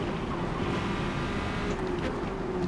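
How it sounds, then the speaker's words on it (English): Corvette C8.R race car engine in Forza Motorsport at Le Mans, a steady loud engine drone throughout with a brief downshift blip near the end, no talk. "Okay, so I'm at least downshifting once there."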